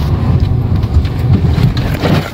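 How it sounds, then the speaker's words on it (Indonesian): Heavy traffic jam on a Jakarta street, a continuous low rumble of idling and creeping car engines, close and steady, with no voices. "Jakarta kalau nggak macet bukan namanya Jakarta."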